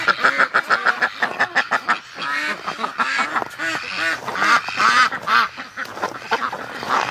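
Muscovy ducks call out in cold weather, a run of loud, close, rhythmic quacks and honking notes from several birds overlapping in quick bursts.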